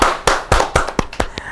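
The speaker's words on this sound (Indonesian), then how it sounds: "Tepuk tangan untuk Mr. Puisi." An audience gives a guest a round of sharp, distinct claps at an evenly spaced pace, about eight crisp hand strikes, close and loud with no talk.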